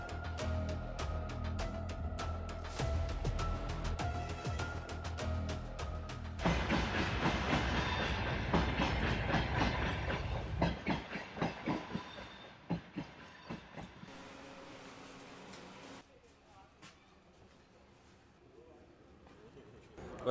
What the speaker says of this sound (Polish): wskakujcie do naszego pociągu